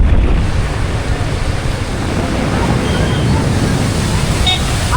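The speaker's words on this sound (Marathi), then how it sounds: "धबधबे चालूच आहे." A waterfall at Malshej pours down in a steady, dense roar that fills the whole stretch without a break, loud and close, with a murmur of voices faintly mixed in.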